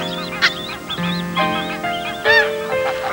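Geese honk in several short, nasal calls, some overlapping, close and fairly loud, with a brief pause between bursts.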